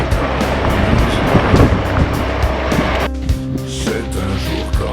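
Stormy wind and surf roar along the Icelandic coast, a loud steady rush of gusting wind buffeting the microphone over crashing waves that shifts in tone partway through.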